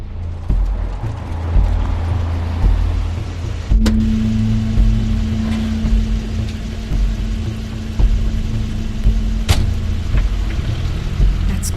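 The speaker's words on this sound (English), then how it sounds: "Crane's car." Car from The Wolf Among Us driving, a steady low engine rumble running throughout with a sustained tone entering partway and a couple of sharp knocks, no talking.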